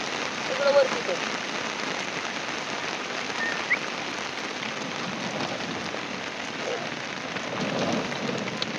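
Steady rain patters down in a dark, overcast morning at a shepherd family's camp, a broad even hiss holding throughout with faint bird calls and brief voices now and then.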